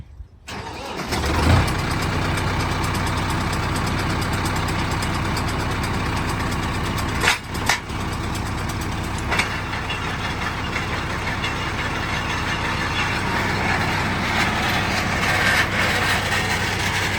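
A motor with a suspected burnt-out fault cranks and catches, then settles into a loud, steady idle close by, with a brief stumble partway through and no talking.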